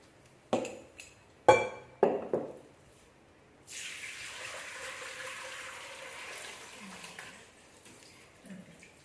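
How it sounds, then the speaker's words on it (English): Homemade alcoholic liquid is strained after a few sharp knocks, a continuous pouring and trickling water-like flow running for several seconds, fairly close and steady with small splashes toward the end. "So we shall strain that."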